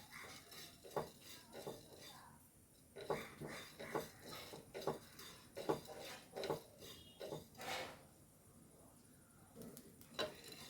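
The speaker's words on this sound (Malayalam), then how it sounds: "ഇനി ഞാൻ ആദ്യം ഇതൊന്ന് വറുത്തെടുക്കട്ടോ അരി ഇട്ട് കൊടുക്കുന്നുണ്ട്" Parboiled ration-shop rice dry-roasting in a pan for rasakalan, heard as repeated close scraping and clinking of a spoon stirring against metal, in irregular bursts with soft rattling grains between.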